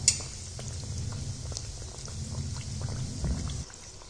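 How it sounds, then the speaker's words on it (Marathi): Bread snack frying in hot oil over a medium gas flame, a steady soft sizzle and bubbling that runs evenly for several seconds before easing off. "मध्यम गॅसवरती छान असं लालसर होईपर्यंत आपण याला तळून घेणार आहोत"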